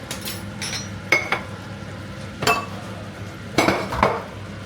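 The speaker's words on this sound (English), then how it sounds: "So give that a mix up, obviously." A spoon stirs vegetable korma in a metal pot. Several distinct clinks and scrapes come at irregular intervals, close and fairly loud, with a faint background hum and no talking.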